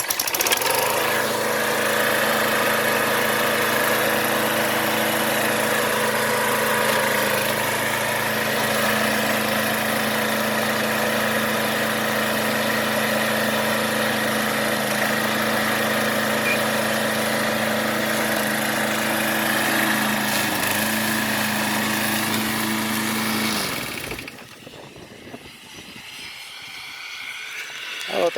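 John Deere JS20 push mower engine running steadily after an idler pulley replacement, a loud continuous drone outdoors in dry, dusty conditions that cuts off near the end.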